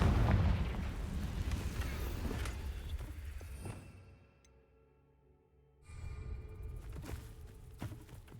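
A blasting-spell explosion in Hogwarts Legacy on PS5 bursts loudly with a rumbling boom that fades over a few seconds, then a quiet pause before further game noise returns.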